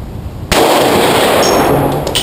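A single handgun shot cracks out sharply and loudly after a brief quiet moment, then gives way to a sustained, noisy roar that lingers to the end without further shots.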